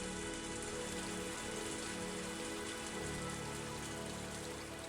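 Steady, dense rain falls in the video game Higurashi: When They Cry Tatarigoroshi. It hisses and patters continuously at an even, loud level for the whole stretch, with no voices.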